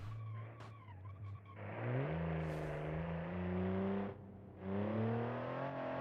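Boxer six engine of an 86 sports car in a racing video game, revving up through short-shifted gears with tire squeal, loud and continuous, dipping briefly at a gear change before climbing again.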